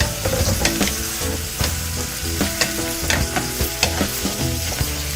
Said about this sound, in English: Just gonna let this saute for about a minute or so before I add anything else to it